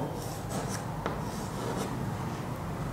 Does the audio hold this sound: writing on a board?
yes